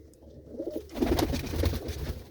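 Pigeons coo softly close by, a red Cheena cock with a white hen, giving low, rolling murmurs that build and overlap through the short stretch.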